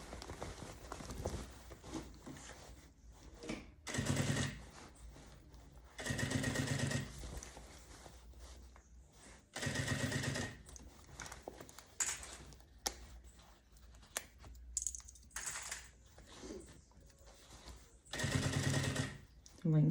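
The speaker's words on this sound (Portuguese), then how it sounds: "Vou costurando, encaixando, com bastante cuidado para não puxar. A tração ser só a tração da máquina." A sewing machine stitches bias binding onto a travel bag in repeated short runs of close whirring, broken by pauses with fabric handling, while a voice speaks in between.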